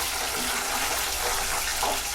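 Homemade masala ghee with tulsi leaves and green chillies sizzles in a pan, giving a dense, steady hiss that runs unbroken and fairly loud from start to finish with no voices.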